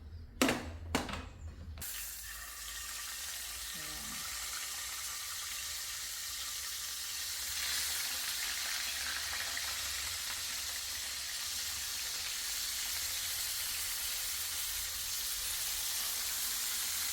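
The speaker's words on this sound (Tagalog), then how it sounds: "Tapos magpiprito kami ng isda." Fish frying in a pan, a few short knocks at the start followed by a long, steady sizzling hiss that carries on alone.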